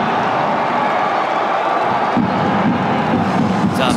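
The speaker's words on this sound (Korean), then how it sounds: "서울 팬들에서 큰 함성이 나왔는데" FC Seoul fans in a stadium at an AFC Champions League match against Melbourne Victory give off a loud, continuous crowd roar that swells slightly partway through.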